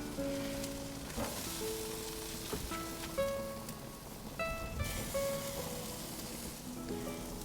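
Steak and shrimp kabobs sizzle steadily in a hot pan, a dense continuous crackle and hiss with no talking, close and fairly loud throughout.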